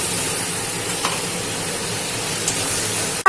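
Spiced paste water poured into a hot pan of oil with ground Kashmiri chili, turmeric and salt, frying into a steady, continuous close sizzle with a few brief stirring accents.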